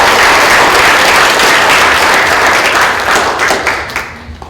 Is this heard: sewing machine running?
no